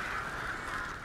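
A flock of crows caws in The Last of Us, a brief, faint, raspy cawing chorus heard from a distance, with no speech.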